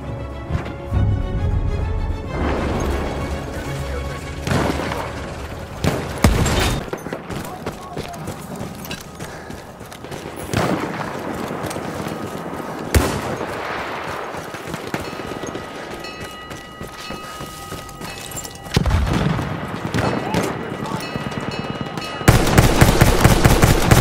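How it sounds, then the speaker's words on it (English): An enemy artillery barrage in Battlefield 1 pounds away in repeated heavy blasts and bursts of gunfire, loud and scattered over a busy battlefield din, with a voice heard now and then. "Wait for the enemy artillery barrage to stop firing."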